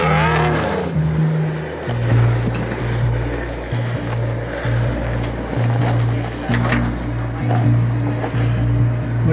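A Jeep engine revs and strains while the vehicle crawls up a rock wall on an off-road course, a loud, close motor drone with rising pushes, while people talk over it.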